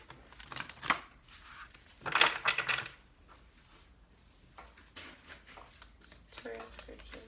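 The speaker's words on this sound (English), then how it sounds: "All right, one more shuffle." Tarot cards are shuffled in a few quick riffling bursts, the loudest in the middle, close and fairly quiet, with soft handling noises between.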